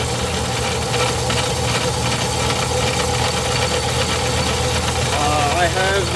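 A Craftsman 109 metal lathe turning with a carbide cutting tool, a steady motor drone and mechanical hum running throughout at an even level, with a faint rising whine near the end.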